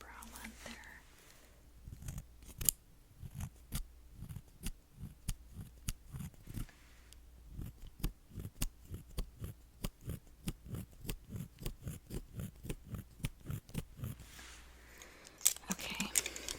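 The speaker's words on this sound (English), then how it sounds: "I'm just going to do a tiny little bit of trimming in that section just because I'm concerned about the brow length there." Small scissors trim eyebrows up close in a quiet room, a long series of crisp, rapid snips in uneven bursts, with soft whispering now and then.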